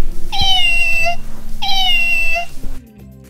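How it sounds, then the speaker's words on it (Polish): A cat gives two clear, close meows, each a drawn-out whine that falls at the end, over a low background hum. A short thump follows, and then the sound goes quiet. "Jedynie tu znalazłam takiego kotka."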